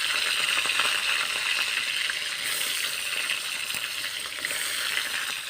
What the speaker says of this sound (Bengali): আমি মাছের মাথাটা গরম হয়ে গেলে মাছের মাথাগুলো ভেজে নেব